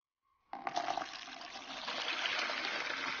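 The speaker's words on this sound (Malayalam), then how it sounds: "1 ലിറ്റർ വെള്ളം ഒഴിച്ചു കൊടുത്തിട്ടുണ്ട്." Water poured from a height into a bucket while making homemade dishwashing liquid, a sudden broadband gush starting abruptly and then holding as a steady, close, continuous splashing pour without talk.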